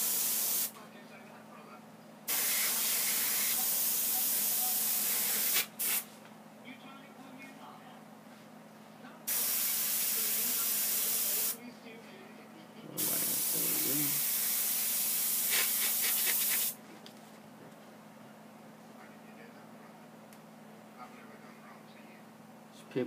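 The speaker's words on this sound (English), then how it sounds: "sort of spray in one direction, coming off the paper towards the painted surface area" An aerosol can sprays paint through a paper stencil onto a comic cover, sounding as several sustained hissing bursts of a few seconds each with short quiet gaps between them, close and fairly loud.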